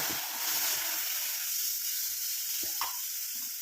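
Steady, loud sizzling hiss as water is added to a hot pan of indigo (avari) powder for natural hair dye, with faint clinks and stirring sounds near the end.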